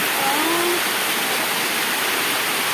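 A heavy torrent of rainwater rushes down from a hill during a storm, a loud, steady, broadband roar close by that fills the whole moment without letup, with no voices heard.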